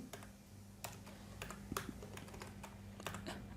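Quiet, close keystrokes on a computer keyboard as code is entered, coming in a loose run of separate clicks over a faint hum.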